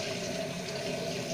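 Hot water runs steadily into a batch of slime, a continuous watery pour with a faint, even splashing hiss and no voices.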